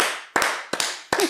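Three sharp bursts of close, loud hand claps from a TV studio audience cheering for Iglė, spaced about a third of a second apart over a steady bed of noise.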